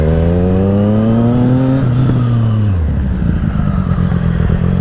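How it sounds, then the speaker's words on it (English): A motorcycle engine at roughly 20–30 mph drones loud and close, its pitch sliding down as the bike brakes hard, then settling into a rougher lower rumble during the swerve. "I'm going to carry about 20-30 miles an hour of speed. Emergency brake, swerve."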